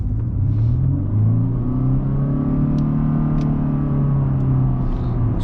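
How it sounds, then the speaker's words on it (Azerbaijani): A Honda Insight ZE4 hybrid accelerating in sport mode gives a steady engine hum whose tone rises smoothly, heard from inside the car over a low road rumble. "Sport rejimdə sürətlənmə artıq daha yaxşıdır"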